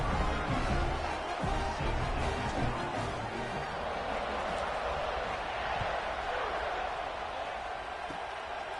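Stadium crowd in the NCAA 26 college football video game, Tennessee vs Arkansas, just before kickoff: a dense, steady roar of cheering that holds at high level for the whole stretch.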